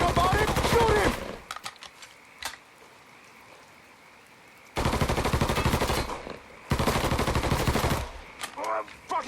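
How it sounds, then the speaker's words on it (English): Mafia 3 gameplay erupts in bursts of loud automatic gunfire: a long volley at the start, then two sustained sprays in the middle, with scattered single shots and quiet gaps between. "Don't think about it! Shoot him!"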